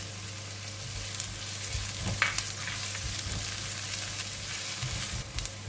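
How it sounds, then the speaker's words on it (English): Onions and green chili stir frying in a pan for an okra and dhal dish, a steady close sizzle with occasional scraping and stirring clicks, no voices. "And now I'm putting in the onions and the chili, the green chili."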